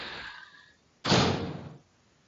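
A heavy door in the Resident Evil 2 video game thuds open in a single dull, booming burst that lingers about a second before cutting off, following a fading softer sound.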